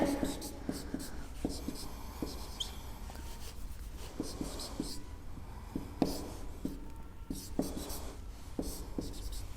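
Marker or chalk writing a chemical reaction on a board in a chemistry lecture, a series of short scratchy strokes in irregular bursts over a steady background hiss, close and moderately loud.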